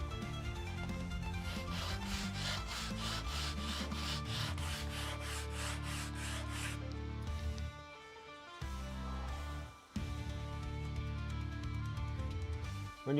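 Sandpaper rubbed over a hobby workpiece while building a miniature base, steady rhythmic rasping strokes close by for several seconds, then slower scrapes with short pauses.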